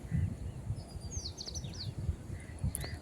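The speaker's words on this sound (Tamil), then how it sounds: "குருவிங்க சத்தம் அது நல்லாயிருக்கும்" Bright little sparrow chirps twitter in quick clusters over a low, rumbling background, fairly faint and a bit distant, heard from a terrace garden in the evening.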